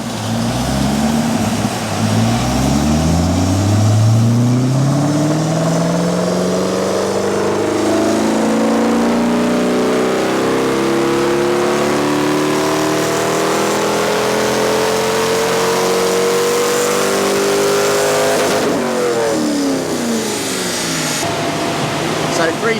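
A Volvo car engine revs through a dyno power pull, its loud, close tone climbing steadily in pitch for about twenty seconds before falling away sharply near the end.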